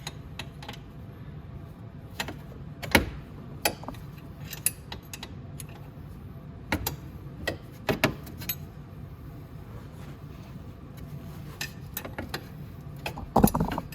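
Ratchet tightening the front exhaust manifold and gasket on a Venom X22 125cc motorcycle, with scattered short metallic clicks and knocks, close and moderately loud, in bursts over a steady low background hum.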